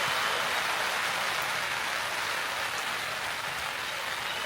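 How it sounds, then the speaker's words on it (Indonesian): Steady rain falls at a forest campsite during a solo camping trip, a dense, even hiss of drops pattering on surfaces, close and continuous without any voices. "Tiba-tiba hujan"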